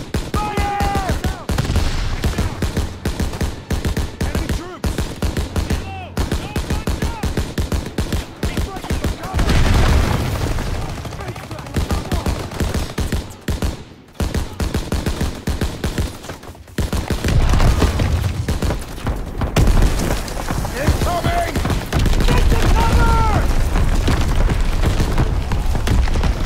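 Rolling WWII gunfire from a defensive line in Call of Duty: WWII, dense rifle and machine-gun bursts with heavy booms, loud and continuous with brief lulls, under shouted soldier voices.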